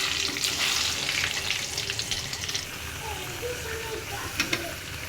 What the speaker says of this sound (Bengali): এখন আমি ভালো করে নেড়ে নিচ্ছি